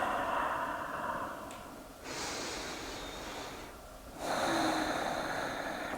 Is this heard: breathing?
yes